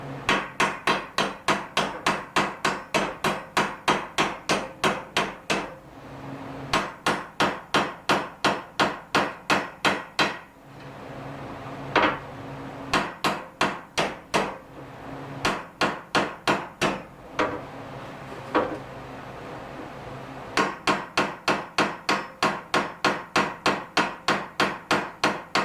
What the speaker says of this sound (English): And then we're going to start peening it over.